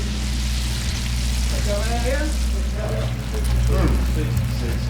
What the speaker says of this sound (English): We're frying speckled trout.